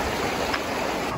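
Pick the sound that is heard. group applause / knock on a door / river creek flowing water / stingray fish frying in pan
river creek flowing water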